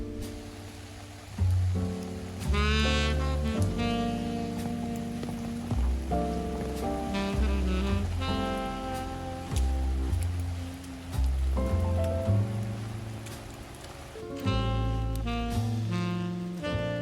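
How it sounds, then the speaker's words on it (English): Steady rain falls outside as a soft, continuous patter on surfaces, lasting throughout but largely under prominent music with a melody and bass notes. "Very rainy here."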